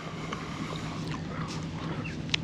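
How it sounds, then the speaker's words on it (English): A leisure boat's engine on the Norfolk Broads, a steady low drone running throughout with wind and water noise on top and a small knock near the end. "we've got our engine running because we only had an hour's cruise to here"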